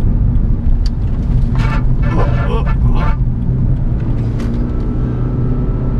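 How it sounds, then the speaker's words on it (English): A modified Toyota Prius with traction control bypassed runs at full throttle, giving a loud, steady engine drone that holds its level throughout, with a voice briefly heard over it. "Dude, this is full throttle."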